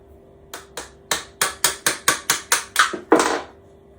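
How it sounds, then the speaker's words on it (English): About a dozen sharp metallic taps strike in a steady rhythm, close and fairly loud, from a pair of pliers being used as a hammer. "Never used a pair of pliers for a hammer."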